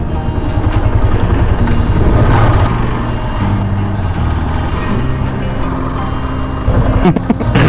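A motorbike rides around a railway colony, its engine loud and close with continuous rumbling and shifting revs, mixed with passing traffic noise and a brief clatter near the end.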